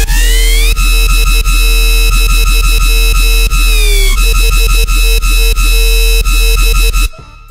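A high-pitched metallic screech synth patch in dubstep style, sustained bright tones with stepped pitch shifts and a steady rhythmic pulse underneath, loud and continuous before cutting off near the end.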